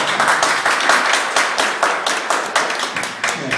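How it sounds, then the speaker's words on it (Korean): An audience at a Korean community book gathering claps in a loud, close burst. Many hands fall into a rough rhythmic beat, with the claps pulsing at regular intervals throughout. "박수 한번 치면 돼요."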